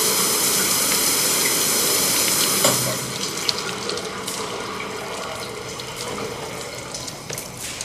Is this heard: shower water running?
yes